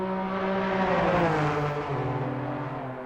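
A race car engine in a racing video game drones steadily, then its pitch drops as the driver lifts off the throttle, with tire and wind whir close by.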